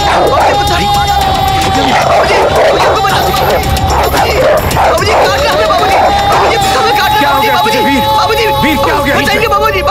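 A dog barks and yips repeatedly in a Hindi film scene, loud and close, mixed with agitated overlapping voices and background music.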